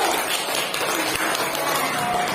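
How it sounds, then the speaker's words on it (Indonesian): Children in a classroom clap for a classmate, a brief burst of dense, fairly close applause lasting a couple of seconds. "Kasih tepuk tangan dulu"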